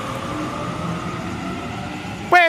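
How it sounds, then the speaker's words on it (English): A Sydney Trains service departs the platform at Toongabbie station, a steady rumbling roll with a rising motor whine, ending in a sudden sharp squeal. "A70 now departing platform number 2, Central Service."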